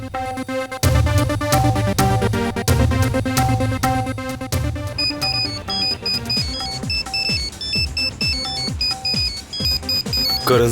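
A melodic electronic ringtone plays loudly over background music, its repeating high tones continuing steadily for several seconds.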